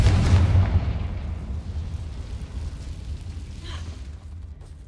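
A spell explosion in a Harry Potter video game opens with a heavy booming blast and then rumbles off into a fading tail over several seconds, loud at first and with no voice.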